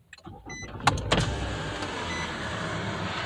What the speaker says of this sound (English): Can you push the stop button so I can open the window?